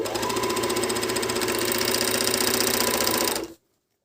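A MEDION MD10685 sewing machine stitching a rolled hem, running in a fast, steady mechanical whir and rapid needle clatter for about three and a half seconds before stopping abruptly into silence.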